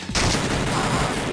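Gunfire from The Terminator video game on Sega CD, a brief dense burst of rapid synthetic shots, loud and continuous for about a second.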